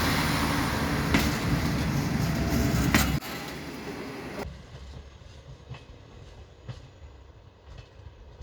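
The EDITA autonomous railway car runs along the track with a loud rolling rumble and faint rhythmic clicks of the rails, then the sound drops abruptly to a quieter, more muffled run.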